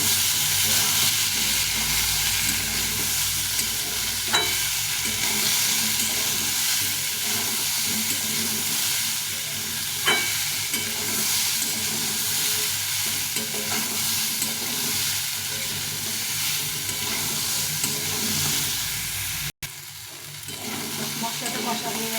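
Pumpkin with chickpeas and peanuts stir-fries in a pan, making a continuous loud close sizzle with a few faint spatula clicks over about twenty seconds, cut by one brief drop near the end.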